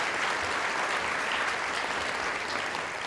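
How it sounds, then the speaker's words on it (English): A banquet audience at a Georgia 4-H Congress leadership event claps in a dense, sustained round of applause that stays loud and even throughout, with no other sounds breaking through. "let's give that group a round of applause"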